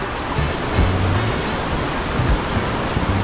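Strong river current rushing steadily at a fishing spot, a broad continuous wash of water close by with a few brief louder surges and no talking.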